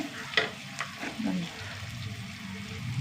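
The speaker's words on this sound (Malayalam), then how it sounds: "ഉള്ളി ചെറുതായിട്ട് വഴണ്ട് വന്നു" Onions sautéing in a pan for a spicy dish, a soft sizzle and stirring scrape with a few clinks of a utensil, fairly quiet and close throughout.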